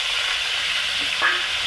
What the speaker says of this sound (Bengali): একদম চিচিংয়ে ভাজার মতন করে ভেজে নেবো